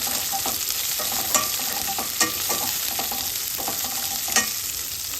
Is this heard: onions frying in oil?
yes